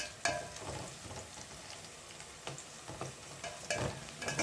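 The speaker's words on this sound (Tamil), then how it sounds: "இப்போ இதில் ஒரு பதினஞ்சு மிளகாய் கிள்ளி வச்சுருக்கேன் அதையும் சேர்த்துக்குவோம் அதை சேர்த்து நல்லா வதக்கிக்கிடலாம்" Dried red chillies and onions sautéing in a pan for chicken gravy: a faint, steady sizzle broken by occasional scraping stirs of a spoon, no voices.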